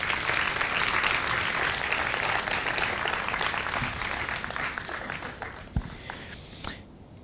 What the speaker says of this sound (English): Could we have a brief round of applause for our panelists?